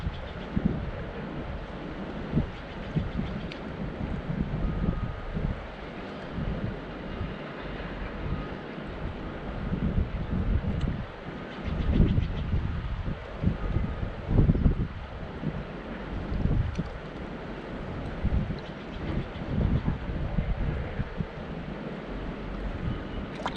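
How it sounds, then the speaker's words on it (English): Strong gusting wind at an outdoor gold panning reserve in Lytton, buffeting the microphone with a continuous loud low rumble that swells and eases across the whole stretch, no talking. "This wind is getting a little bit much."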